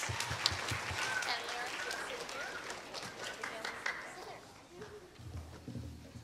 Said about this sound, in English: Let's give Lily a round of applause